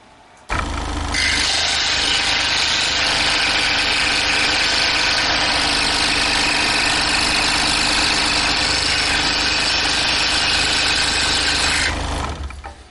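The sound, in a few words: scroll saw cross-cutting cedar wood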